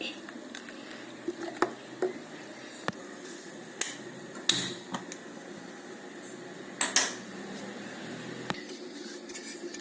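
Soft scraping and occasional clinks of a spoon stirring tomato buttermilk curry in a bowl, intermittent and fairly quiet against a low background hum.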